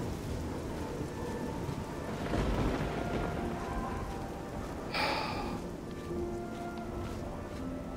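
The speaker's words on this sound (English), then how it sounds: "Oh, and it's starting to rain." Steady rain hisses in the video game Oblivion during a thunderstorm, with a low rumble of thunder swelling midway and a sharper crack soon after.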